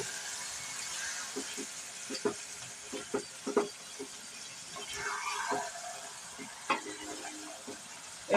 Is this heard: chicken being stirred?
yes